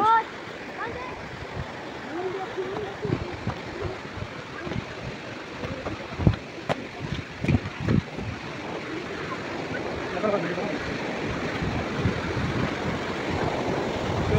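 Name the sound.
waterfall water flowing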